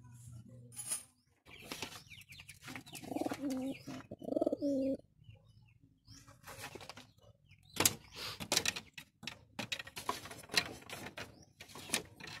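Pigeons coo after being fed grits, with several soft, rolling coos, a few chirps and some clattering knocks from the coop. The calls come in short bursts with quiet gaps, close and moderately loud.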